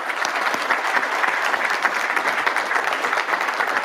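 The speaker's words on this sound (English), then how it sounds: "So just give them a round of applause." An audience at a House Agriculture Subcommittee hearing claps steadily in a dense, continuous round of applause that fills the room throughout.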